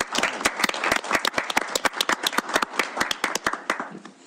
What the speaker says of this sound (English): if we can give our staff a round of applause